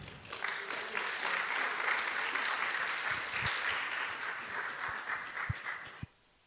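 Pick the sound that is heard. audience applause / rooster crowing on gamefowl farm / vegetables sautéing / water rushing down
audience applause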